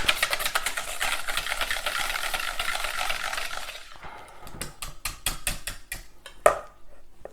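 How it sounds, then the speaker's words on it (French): A hand whisk beats mashed potatoes with olive oil in a bowl: a fast, dense scraping churn, then slower separate strokes with one sharp clink near the end. "Et c'est là qu'on monte notre purée à l'huile d'olive"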